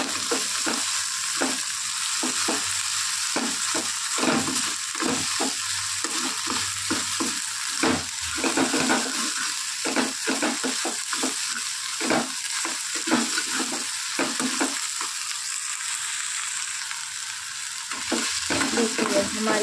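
Spices (red chilli, garam masala, coriander powder) stirred into okra frying in a pan, with a continuous loud sizzle broken by repeated scraping strokes of a spoon in an uneven rhythm.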